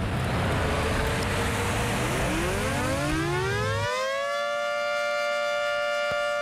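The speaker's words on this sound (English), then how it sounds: "The sirens blare at about 130 decibels." A loud tornado warning siren winds up, its wail climbing steadily in pitch over a few seconds, then holds a sustained, piercing tone at about 130 decibels. No voices.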